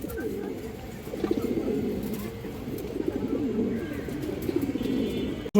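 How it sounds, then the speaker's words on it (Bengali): Pigeons at a bird market selling old-breed fancy pigeons, soft repeated low cooing from several birds close by, steady throughout with faint background bustle. "আরেকটা বাগামাদি কবুতর এই দেখেন খুব সুন্দর একটা কবুতর"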